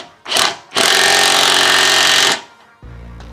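An impact wrench tightens the wheel nuts on a car tyre: a short burst, then a loud sustained rattling hammer lasting about a second and a half, followed by a quieter hum.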